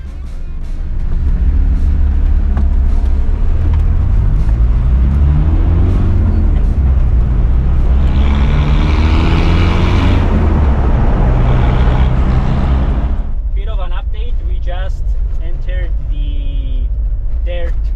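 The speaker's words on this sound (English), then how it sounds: "a Land Rover convoy barely managing to do 90 kilometers an hour on the freeway" A convoy of Land Rover 300 Tdi vehicles drones along a freeway at about 90 km/h, the loud road and engine roar heard from inside with someone talking over it, then easing into quieter rumble near the end.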